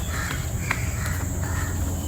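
Several harsh crow caws ring out in short bursts against a low outdoor rumble, some closer and louder than others.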